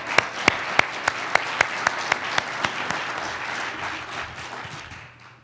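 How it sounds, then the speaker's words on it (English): Audience applause at a talk on the Massachusetts clean energy and climate plan. A few sharp, evenly spaced claps stand out close to the microphone over a wash of crowd clapping that gradually fades away. "I think you deserve a round of applause for that."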